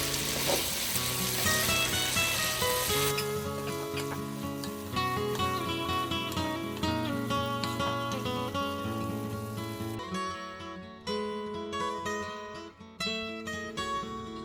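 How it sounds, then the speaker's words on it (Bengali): Chillies, green peas, potatoes and runner beans fry together in a pan, a steady oily sizzle running throughout with some background music over it, no voices. "তার সাথে দিচ্ছে মটরশুঁটি, সব একসাথে দিয়ে ভেজে নেবে।"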